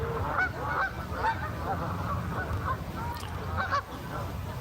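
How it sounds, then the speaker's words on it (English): Several geese honk at moderate distance in an outdoor setting, harsh calls repeating in loose bursts over a steady low background rumble. "Yeah, geese."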